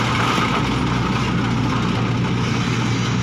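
Engine of an Iseki HC300 rice combine harvester, an older Japanese import, running steadily at idle with a continuous low hum and broadband mechanical noise, close and loud throughout.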